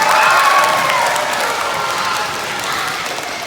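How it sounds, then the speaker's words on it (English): Children applaud and cheer for a school band and string players: a loud burst of clapping and shouts at the start that slowly thins and fades. "how about another round of applause for the band and the strings"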